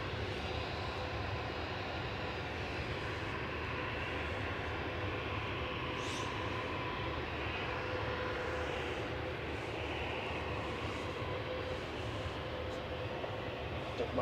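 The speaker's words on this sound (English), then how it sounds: "EasyJet's going next to Alicante, GEZWZ, an A320 Classic with flight 2013" An easyJet Airbus A320 Classic sits at Manchester Airport, its jet engines giving a faint, steady distant roar with a soft hiss and low rumble throughout.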